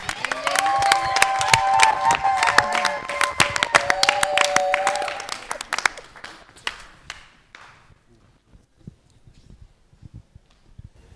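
An audience at a New Year's wishes ceremony for a reverend pastor claps and cheers loudly, with sharp individual claps and voices rising in the first half before the applause thins to scattered claps and fades into near silence.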